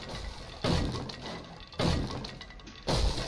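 Thuds and cracks from breaking into a bookstore in the video game 7 Days To Die, three heavy strikes spaced about a second apart, each followed by a crunching decay, with no talking.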